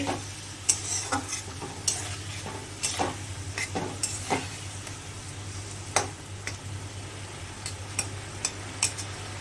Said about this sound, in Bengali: জল দিয়ে দিয়ে কষাবো মশলাটার কাঁচা গন্ধ চলে যাবে